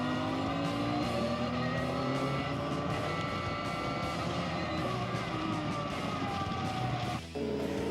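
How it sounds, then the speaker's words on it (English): Vintage racing cars roar loudly and steadily past on a circuit as one overtakes another, engines straining under acceleration in a continuous dense drone. "Accelerated down and Woodley passes Harper"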